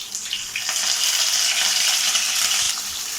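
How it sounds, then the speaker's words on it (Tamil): A continuous bright sizzle of shallots and curry leaves frying in oil, close and fairly loud, with light scraping in the middle and no talking. "சின்ன வெங்காயத்தை எண்ணெயிலே நல்லா வதக்கிக்கலாம்"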